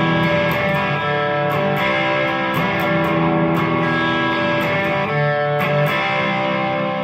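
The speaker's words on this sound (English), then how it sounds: "And you can spice things up a bit on the verse by playing the single notes of the chord." Distorted electric guitar picks out the single notes of the verse chords of a song, a steady, dense, loud sustained tone with regular note attacks and no talking.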